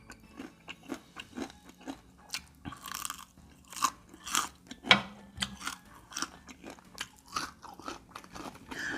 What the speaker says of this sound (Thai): แป้งกรอบอร่อยมาก